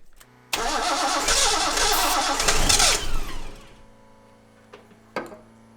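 Car engine cranking on starting fluid through a remote starter switch: a loud churning crank for about three seconds that sputters and fades without catching, followed by a couple of sharp clicks.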